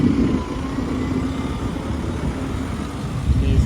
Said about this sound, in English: Her engine's grinding a bit again.